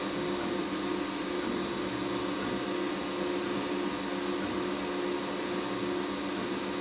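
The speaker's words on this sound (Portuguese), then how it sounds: "Em relação ao ruído que essa impressora produz, eu não achei ela muito barulhenta não" A Geeetech A20m 3D printer runs nearby with a steady, moderate mechanical hum and broadband whir that holds even throughout, and no distinct extruder creaks stand out.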